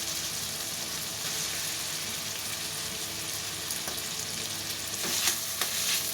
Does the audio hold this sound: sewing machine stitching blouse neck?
no